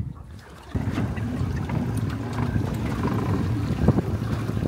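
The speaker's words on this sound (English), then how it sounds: "Got a little rumbling on this engine." A boat engine rumbles steadily on the water, a loud low drone that starts abruptly and runs on with wind buffeting the microphone.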